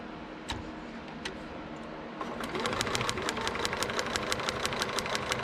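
A Janome sewing machine stitching a paper-pieced miniature quilt: after a few isolated clicks, the motor starts up into a steady, close rhythmic whir of rapid needle strokes.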